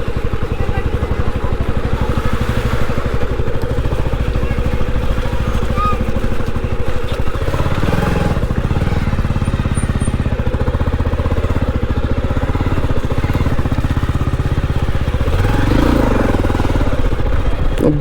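A motorbike engine runs and labours close by through thick mud and muck on a market road in Arwal, steady and rumbling for the whole stretch with clattering mixed in.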